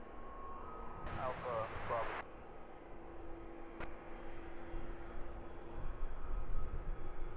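Wizz Air airliner on approach at Luton Airport: a steady, broad, moderately distant engine roar that swells slightly toward the end, with a voice speaking over it at times.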